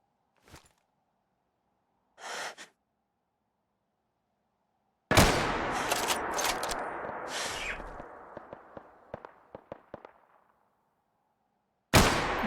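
Gunfire from a .308 weapon in the survival mode of Fallout 4: a few isolated bursts, then a loud continuous burst of sharp cracks that thins into separate shots and tails off, with a final shot at the end.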